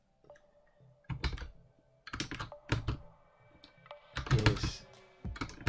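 Fingers type on a computer keyboard in irregular clusters of quick, close clicking keystrokes separated by brief pauses.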